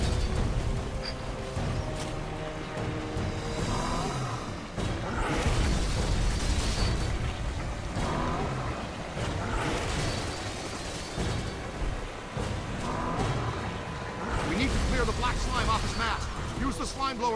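A slime blower in the Ghostbusters video game sprays in bursts amid booming effects and mechanical noise, loud and dense, with voices talking over it throughout.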